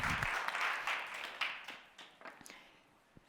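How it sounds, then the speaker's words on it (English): At a tech conference closing session, a modest audience claps, loud at first and then thinning into scattered, separate hand claps that fade out over a few seconds. "I suggest we give a round hand of applause"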